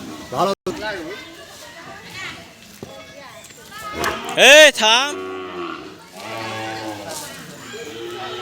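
Cattle held for a free vaccination drive run by a local livestock office and veterinary hospital let out a loud, rising moo midway, amid steady chatter from people and children nearby.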